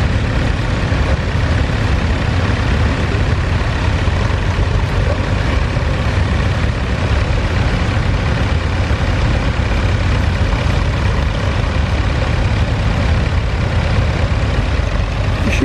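A Ferguson tractor engine runs at a ploughing event, a steady low diesel drone throughout with no breaks, close and fairly loud, without talk.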